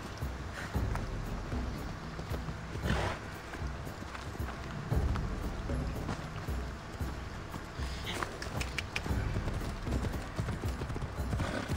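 A horse gallops in Assassin's Creed Odyssey, with quiet rhythmic hoof clatter carrying on under faint background game sounds.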